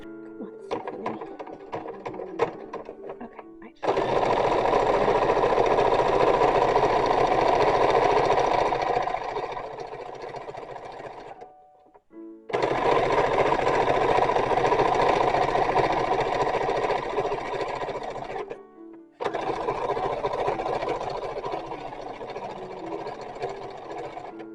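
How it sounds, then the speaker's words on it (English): A sewing machine stitches garter fabric a quarter inch from the edge in three long loud whirring runs, each a steady mechanical hum broken by short pauses between bursts. "I'm going to stitch 1/4 inch from the edge."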